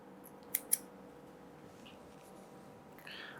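Two quick, crisp snips of scissors cutting paper while making a handmade pocket journal, close and isolated against a quiet room with faint background hiss.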